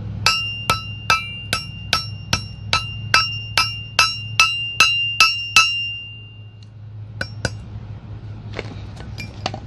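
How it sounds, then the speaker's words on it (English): Red-hot steel is hammered on an anvil to bend an angle into a landscape pin puller: a dozen bright, ringing metallic strikes at a steady pace over a low hum, then a pause and a few lighter taps. "Now, with it red hot, I'm going to take it to my anvil and try to bend an angle onto it."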